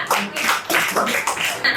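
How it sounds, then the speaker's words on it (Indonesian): Pupils in a classroom clap for a classmate, giving a short burst of dense, close applause with several pulses over about two seconds. "Tepuk tangan untuk Clara"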